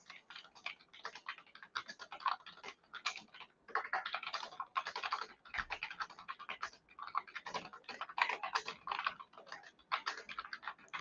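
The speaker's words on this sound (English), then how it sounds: "I'm just typing in there" Rapid, steady keystrokes on a computer keyboard, close and fairly quiet, continuing without pause for several seconds with no voices.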